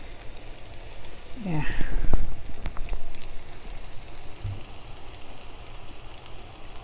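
Plantains fry in hot oil in a hot skillet, a steady soft sizzle running under the whole stretch and swelling briefly in the middle, while a person talks over it.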